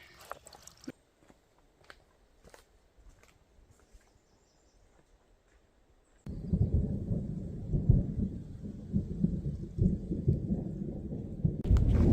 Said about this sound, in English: After listening to the thunder all day, the rain is just pouring out now.